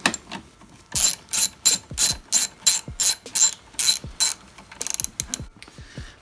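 Ratchet wrench loosening 8 mm bolts on a BMW N54 engine during a valve cover gasket job: close, crisp clicking bursts in a steady back-and-forth rhythm, about a dozen strokes, ending in a quicker flurry of clicks.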